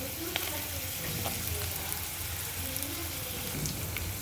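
Chana dal dry-roasts in a pan with dried red chillies for parendai chutney, a steady crackling sizzle like light rain throughout, with faint scraping of a utensil moving the lentils around.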